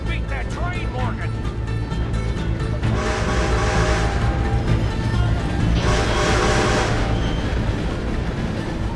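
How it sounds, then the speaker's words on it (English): A train rumbles past in a video game, with broadband rushing swells and horn-like tones over a steady low roar, all under ongoing talk and game action. "Gotta beat that train, Morgan!"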